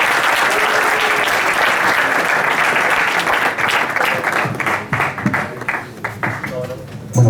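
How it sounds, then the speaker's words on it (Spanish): Loud, sustained audience applause fills the room for a guest speaker at a student-centre talk on Venezuelan democracy, continuous clapping that thins toward the end with a few louder claps. "lo llamo a escucharlo con respeto y un fuerte aplauso aquí para él"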